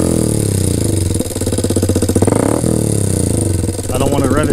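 A 2023 Honda Grom with a DH Motoring cam, Chimera intake, ECU tune and new sprocket idles with a loud, clattery note, then revs up in a brief rising burst before settling back, close to the bike.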